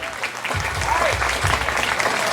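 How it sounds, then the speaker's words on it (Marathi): Applause rings out at Udtare Balasaheb Pawar High School's 2025 annual function and prize-giving as a girl from the 9th standard is honoured. The clapping is full, steady and close throughout. "कौतुकाच्या टाळ्या झाल्या पाहिजेत."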